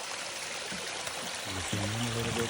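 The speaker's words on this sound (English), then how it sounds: "there's another waterfall." A waterfall at a huge 1,500,000-litre koi pond: a faint, steady rush of falling water, heard from a distance, with a brief low tonal hum near the end.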